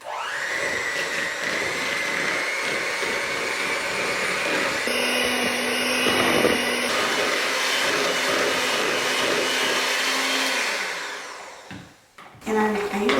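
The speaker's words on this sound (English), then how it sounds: "So I'm gonna go ahead and use my hand mixer and start mixing this stuff up." A handheld electric mixer on a low setting whirs steadily through peanut butter cookie dough, a loud continuous motor drone that briefly shifts pitch midway, then cuts off near the end.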